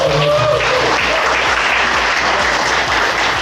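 Loud, dense applause from an audience at a business network event fills the whole stretch, steady and continuous with a faint crowd murmur beneath.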